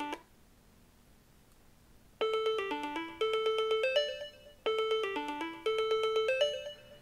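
A phone or iPad rings with a repeating chime alert triggered remotely from a Kensington Proximo Bluetooth tracker button, sounding in four clear melodic bursts after a brief quiet start.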